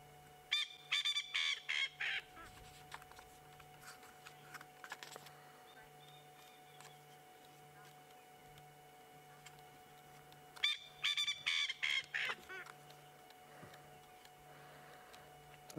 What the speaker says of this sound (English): Very noisy little bird for its size.